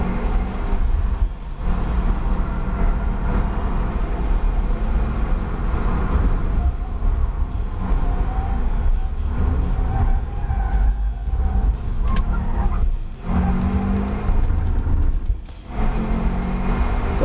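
A 2018 Subaru WRX STI Type RA lapping a wet racetrack at NCM, its engine droning steadily and loudly throughout with road and tire noise, shifting pitch as the car is worked through turns and over curbs.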